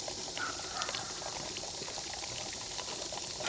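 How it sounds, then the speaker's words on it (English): Pond water pours from a tube onto a waterwheel in a steady, rushing splash that stays even and continuous throughout, fairly close and without talk. "All right, go turn the water on."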